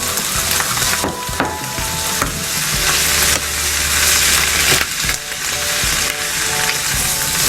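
Loud, steady sizzling and clattering of squid, cabbage and onion stir-frying in a hot pan, with scraping and tossing noises throughout; no talking.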